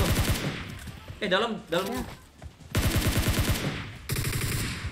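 A SCAR-L rifle in PUBG Mobile fires loud, rapid automatic bursts up close, with a brief pause where a voice speaks before the shooting resumes.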